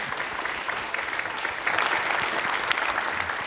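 A studio audience at a televised Quran recitation competition claps in dense, continuous applause that swells and grows louder partway through, with no speech over it.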